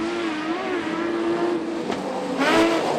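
Modified production race car engines roar loudly and continuously at Toowoomba speedway, pitch rising and falling as the cars sweep past on the track.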